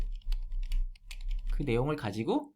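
Brisk keystrokes on a computer keyboard, a run of quick light clicks close up, followed by a person talking over the last of the typing.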